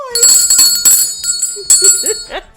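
Bright bells ring out in short repeated bursts, loud and close, with a brief voice sound near the end.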